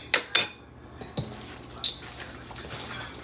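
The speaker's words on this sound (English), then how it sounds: "I'm just gonna start mixing it together and see how it looks." Eggs and cheese being mixed in a bowl, a few sharp clinks of utensil against the bowl separated by quiet scraping, close and faint.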